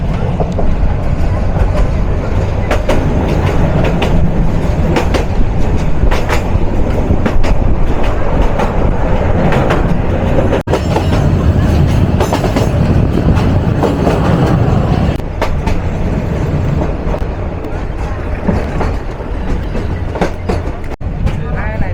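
Commuter train running on rails on the line near Jamalpur, Bangladesh, with a loud, steady rumble and rhythmic clickety-clack heard from on board throughout, plus a few sharp knocks.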